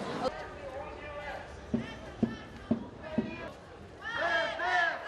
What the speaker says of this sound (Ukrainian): Організовано численний натовп студентів вирушив до облдержадміністрації, де гучними вигуками вимагали зустрічі з владниками